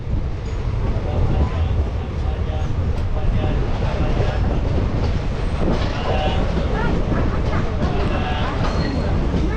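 Passenger train on the Haldibari–New Jalpaiguri line rolling into Raninagar station, a steady close rumble of wheels and carriages with faint rhythmic clatter and occasional higher squeals throughout.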